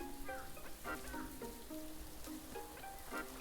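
Game rain patters steadily on surfaces in Feywild Furs, soft and continuous, with faint tonal chirps and small melodic blips sprinkled over the wash.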